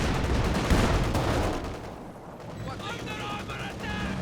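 A ZiS anti-tank gun fires in Company of Heroes 2, with heavy booming shots and explosive rumble up front, fading into quieter battlefield noise and faint high game effects.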